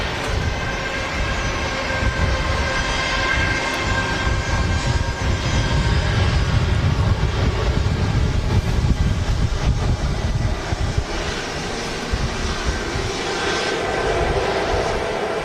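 An airliner taxis slowly off runway 23 right at Manchester Airport, its engines giving a steady, loud, broadband rumble and whine that holds throughout with no talking.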